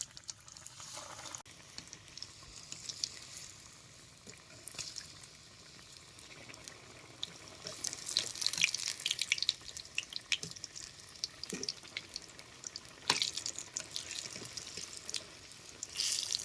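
Potato and matki vadas frying in hot oil, a faint, steady sizzle and bubbling that swells and fades, heard alone at low level.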